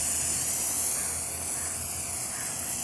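A can of spray tack adhesive hisses in a steady, continuous close-up spray for a few seconds while a board is tacked up for screen printing.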